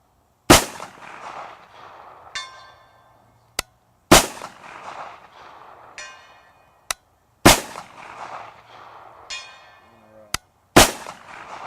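Four single shots from a Kriss Vector submachine gun crack sharply at evenly spaced intervals, each followed by a short metallic ring and a quiet pause, with faint voices between them.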